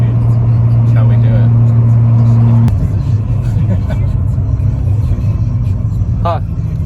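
A tuned car with a front-mount intercooler accelerates hard in traffic, a loud steady engine drone that shifts pitch partway through, with faint background noises over the rumble.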